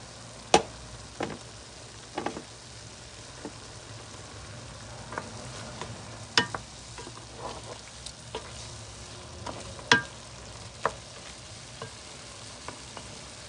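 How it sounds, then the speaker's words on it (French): Meat browning in a pot for a meat, turnip and carrot stew, a soft steady sizzle punctuated by sharp pops and crackles, close by with no talking. "وراح اخليها تقلى واحد شويه حوالي 5 دقائق"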